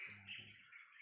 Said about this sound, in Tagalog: Yung huni ng ibon nagpapahiwatig na nandito yung kasamahan natin.